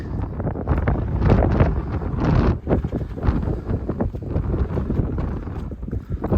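Loud gusty wind on the Appalachian Trail buffets the microphone, rumbling and fluttering in uneven bursts throughout.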